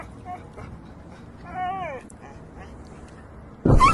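A dog whimpers and yelps in a rising, wavering whine during a drone attack, followed near the end by a sudden loud burst, all over a low, steady background rumble.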